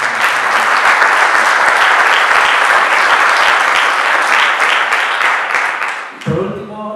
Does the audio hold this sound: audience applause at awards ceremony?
yes